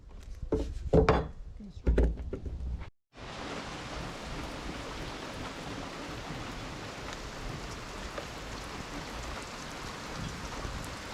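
Steady rain falling around an outdoor DIY cabin deck build, a dense even hiss that holds for several seconds after a short stretch of voices and a brief gap.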